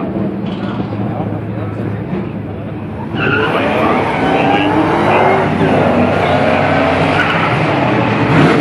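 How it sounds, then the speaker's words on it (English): A supercharged Chevy Silverado pickup truck accelerates hard with its tires skidding and squealing, a loud, close engine roar that surges midway and stays intense to the end. "Chevy pickup truck moving out."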